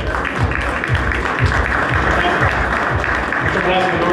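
Applause at the opening of a Ford dealership in Quito welcomes an executive, a dense, loud clapping crowd with distinct rhythmic low thumps and voices mixed in.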